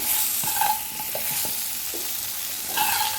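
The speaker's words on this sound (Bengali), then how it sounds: "এবার এর মধ্যে আলু দিয়ে দেবো। কেটে রাখা আলু" Chopped potatoes being stirred in a pan while cooking rohu fish curry, with a low continuous sizzle and several distinct scraping and clinking strokes of the spatula, heard up close without speech.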